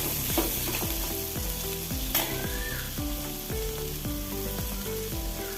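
Six or seven coconut slices fry in a pan for a chutney while a spatula scrapes through them in a regular rhythm of repeated strokes over a steady close sizzle.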